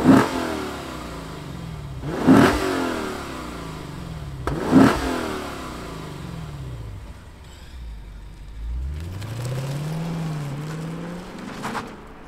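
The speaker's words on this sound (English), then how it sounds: "Let's fire up Chris's Blue Vector Edition and hear what it sounds like." A 2024 Lexus IS 500 F Sport Performance V8 sedan engine fires up and revs sharply three times in a row, then settles into a lower rumble that rises and falls as it idles and revs again.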